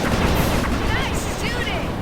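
Gunfire in the video game Sly 2: Band of Thieves rattles as a continuous dense barrage of shots and booms, with whistling game effects layered over it.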